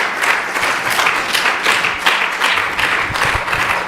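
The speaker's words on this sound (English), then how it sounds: "A big round of applause for Kevala Bhakti Prabhu." A live audience gives a big, steady round of applause after a class on Vaisnava etiquette, dense clapping sustained evenly throughout with no talk over it.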